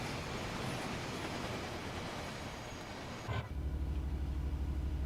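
A passing train in a UK West Coast Main Line train simulator game gives a loud, steady broadband rumble, then cuts abruptly into a deeper, continuous low hum after about three seconds.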